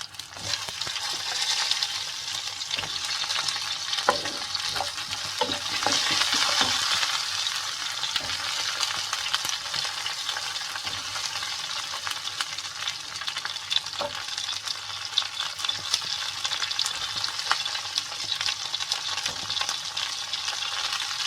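Brinjal (eggplant) pieces fry in a pan with a continuous close sizzle, with occasional stirring scrapes and clinks and no talk.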